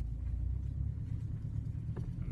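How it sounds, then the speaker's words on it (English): A Subaru with a turbocharged EA82T engine running on Megasquirt MS3x on its first drive, a steady low engine rumble heard from inside the car, with one brief higher knock near the end. "now I'm just gonna do a bit more driving"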